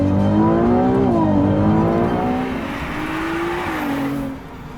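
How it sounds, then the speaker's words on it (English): A Ferrari 296 GTB V6 engine revs loudly and steadily toward 8,500 rpm, its pitch rising and dipping through several changes before easing off near the end. "So it sounds like a Ferrari."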